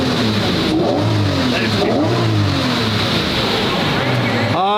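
A Lamborghini rolls in through open doors, its engine revving loudly with rising and falling pitch sweeps over a steady roar, and someone talks over it.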